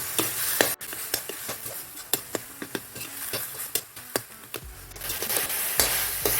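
Sugar being stirred into banana peel halwa in a pan, with repeated scraping and tapping strokes of the spoon in a fairly regular rhythm over a soft sizzle, close and moderately loud.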